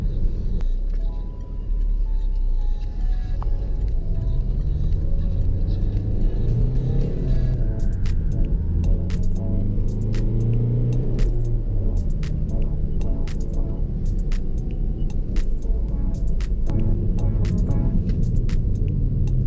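A 2006 Peugeot 407 driven with the accelerator held flat to the floor gives a loud, continuous in-cabin engine drone and road rumble that holds steady throughout, with occasional faint ticks and no talking.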